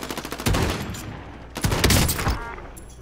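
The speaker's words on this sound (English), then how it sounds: "Shooting at me." Video game gunfire, two loud close bursts of rapid shots about a second apart, with no talk.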